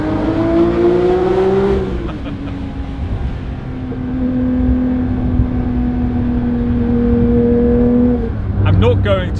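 A Porsche 992 S/T flat-six revs hard toward 9,000 rpm on the Susten Pass, heard from inside the cabin with the window down: a loud, rising engine howl, an upshift, a long climbing pull, then another shift near the end.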